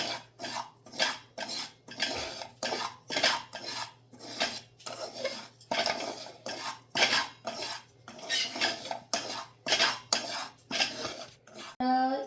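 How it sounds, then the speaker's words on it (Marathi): A metal spoon scrapes rhythmically against a pan while stirring fine dry semolina roasting over low heat for mango sheera, quick regular strokes close up, with a short voice at the very end. "सारखं ढवळत राहायचं याला कारण तो जळणार नाही मग कारण बारीक रवा आहे"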